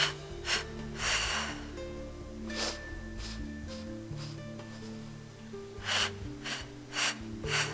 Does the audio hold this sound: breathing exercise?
yes